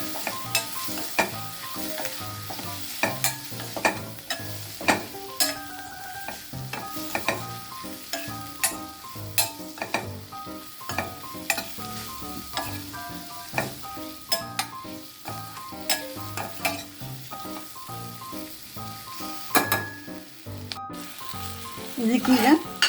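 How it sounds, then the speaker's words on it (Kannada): Pulao masala and chili powder fry in a pan with vegetables as a spatula stirs them, giving a loud continuous sizzle with rapid close scrapes and clinks against the pan. "ಇದು ಪಲಾವ್ ಮಸಾಲ ಹಾಕಿಬಿಟ್ಟು ಇದನ್ನು ಚೆನ್ನಾಗಿ ಒಂದು ಮಿಕ್ಸ್ ಕೊಡಬೇಕು"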